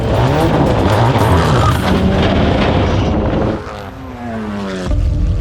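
A race car roars loudly on a dirt track, the engine revving hard and surging, then easing briefly before climbing again, up close with no talking.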